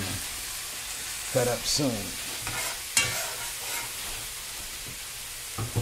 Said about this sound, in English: Our onions and our butter is over here sweating in there.